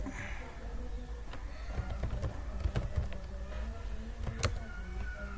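Typing on a computer keyboard while writing an index.html file in Linux: quiet, irregular key clicks in short bursts against a low background hum.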